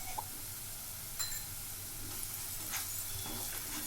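Onions frying in a pan for a flat bean curry, giving a faint, steady sizzle with a few soft clicks from the pan, close and quiet.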